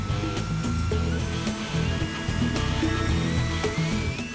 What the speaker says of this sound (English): It's now time to power up this motor at the test station.